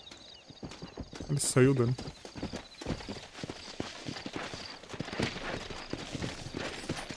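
Horse hooves clip-clop in a video game, a regular stepping rhythm running under a voice and game sounds, with a short burst of louder effects near the start.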